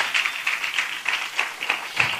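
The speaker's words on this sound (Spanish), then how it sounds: "Dele un aplauso al Rey bendito." A church congregation claps steadily together in a rhythmic beat, moderately loud and close, with no voices over it.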